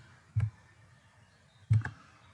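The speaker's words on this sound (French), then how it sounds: "Et enfin, je tape 839." Two isolated keystroke clicks on a computer keyboard, about a second apart, close and fairly quiet in a still room, as a search number is entered into a library catalogue.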